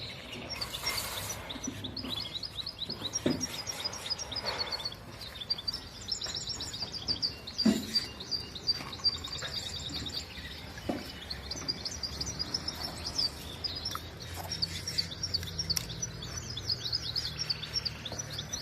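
A hybrid canary sings continuously and energetically at close range, with rapid trilled phrases and bright chirps repeating throughout, alone with no talk.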